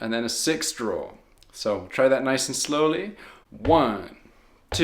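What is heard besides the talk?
No everyday noises stand out.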